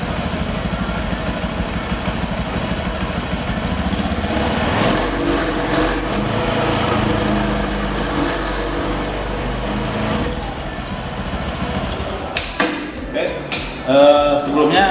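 A scooter engine with an exposed CVT clutch runs steadily and is throttled up slowly, a continuous close mechanical drone with rattling, ending in brief knocks and a short louder burst; someone speaks over it.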